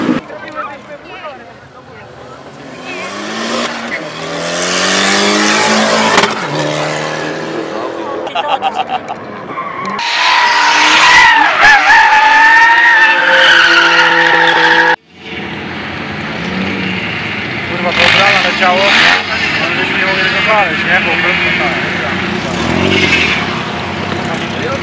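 An Opel Corsa drifting at a summer car meet, its engine revving hard in loud, sustained bursts and its tyres skidding, with people talking and crowd noise mixed in.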